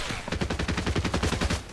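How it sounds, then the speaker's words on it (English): Rapid gunfire from a Fortnite match, a steady burst of repeated shots crackling close and loud for the whole stretch with no pause. "There's gunshots coming all over the place."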